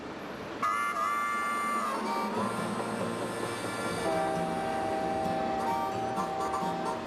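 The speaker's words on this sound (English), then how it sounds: "We're back on board the train, weaving north and west along the foothills of the Rockies Wasatch Range" A passenger train rolls through the Rockies' Wasatch Range foothills with a steady rumble and clatter of wheels on track, while long sustained tonal horn-like notes sound and shift in pitch over the running noise.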